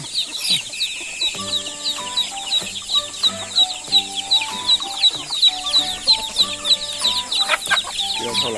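A flock of backyard village chickens at feeding time, clucking in a busy, continuous chorus of repeated short calls, fairly close and without talk.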